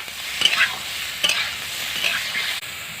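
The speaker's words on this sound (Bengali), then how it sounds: "এবার হালকা করে ভেজে নেব।" Raw mango pieces are lightly fried in mustard oil, a bright continuous sizzle broken by a few scraping stirs of a spoon against the pan, close and fairly loud, without speech.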